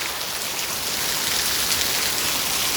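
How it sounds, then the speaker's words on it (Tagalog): Steady rain falls on a day in Bartlett, Tennessee, a dense, even, hissing wash with no pauses and no voices. "It's raining."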